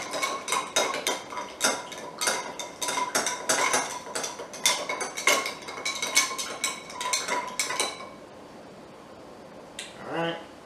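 Ice rattling and clinking against a glass as a tequila old-fashioned cocktail is stirred, a steady run of bright, rapid clicks for about eight seconds before stopping, followed by a short voice.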